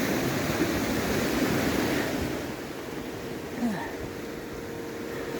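A river in the Norwegian wilderness of Femundsmarka rushes steadily nearby, a broad continuous roar of water with wind buffeting the microphone.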